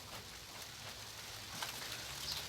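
Steady, fairly quiet rain patters down over a UK garden allotment, a continuous soft hiss of drops on leaves and surfaces with no voices.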